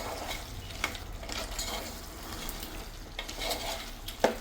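Country chicken curry sizzles in a pan with chili powder while a spoon stirs it, giving a continuous soft frying crackle broken by brief scraping and clinking strokes.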